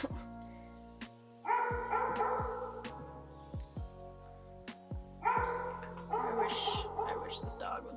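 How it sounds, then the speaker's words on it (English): A dog barks repeatedly in short bursts, a few quick barks together, then a pause and another round, moderately close. "I wish this dog would stop barking."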